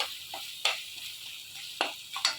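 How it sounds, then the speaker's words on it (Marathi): Masala of homemade chilli powder sizzling in hot oil in a pan at home, a soft steady crackle broken by a few louder stirring scrapes. "मसाल्याला मस्त तेल सुटू लागले."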